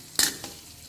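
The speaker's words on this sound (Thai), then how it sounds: "ที่เราใส่หอมตอนน้ำมันไม่ร้อนนี่นะครับ เราจะได้เจียวแล้วก็ อม แดงจะได้กรอบนานนะครับ" Shallots frying in oil in a pan over low heat with oil not yet very hot, a burst of sizzling followed by a second softer hiss, close and alone.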